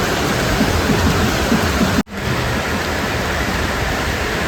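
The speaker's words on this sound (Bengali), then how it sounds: "এদিকে বৃষ্টিটাও কমছে" Steady rain falls in a dense, continuous hiss that fills the whole moment, loud and close, with a brief dropout partway through.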